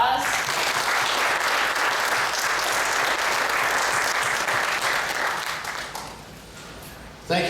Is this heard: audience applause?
yes